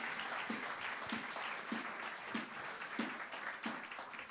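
Church congregation clapping hands together in a steady rhythmic beat to acclaim the Lord, with broad crowd applause filling the room at a moderate distance and no voices over it.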